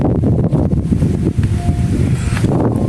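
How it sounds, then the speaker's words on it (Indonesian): Strong gusty wind buffets the microphone on a bridge, a dense continuous low roar with irregular surges across the whole stretch, loud and close with no voice in it. "Wih, angin kencang ini."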